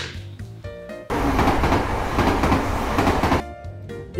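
A passenger train runs along the rails, its loud broadband rumble and rattle filling most of the clip, bracketed by quieter stretches of music-like tones at the start and end.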